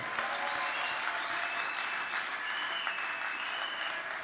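A church congregation claps together in sustained, even applause that holds at a moderate level throughout, with no voices standing out above it.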